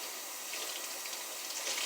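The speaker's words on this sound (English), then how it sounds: "Rinse your sponges out thoroughly with the hot water" Hot tap water runs steadily while sponges are rinsed under it, a continuous close gushing rush into a sink with no voices.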